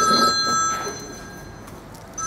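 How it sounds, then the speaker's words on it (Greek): A telephone rings with a bright electronic trill during a town meeting with residents in Ierissos, loud at first and then fading over about two seconds. "Τηλέφωνο. Κλείστε το λίγο."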